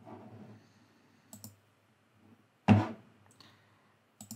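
A computer mouse clicks once, sharp and close, during CAD modelling of a shoulder screw in SolidWorks, with a few fainter taps before and after in a quiet room.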